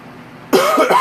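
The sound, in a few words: cough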